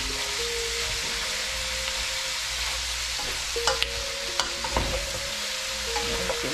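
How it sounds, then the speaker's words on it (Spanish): Jalapeño chiles fry in hot oil in a pan, giving a steady close sizzle throughout, with stirring scrapes and a few sharper clicks near the middle and end; no one talks. "El aceite le fría los chiles un poquito"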